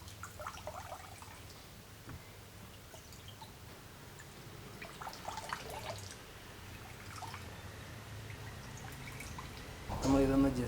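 Freshly made homemade paneer, still hot, is squeezed in a cloth after a dip in cold water. Faint drips and trickles of whey fall in scattered bursts over a quiet background, ending in a louder clatter.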